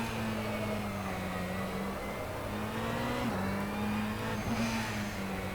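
A Ferrari 488 GTE race car engine in a sim racing game holds a steady, moderately loud drone, with two brief pitch shifts midway like gear changes. No one speaks.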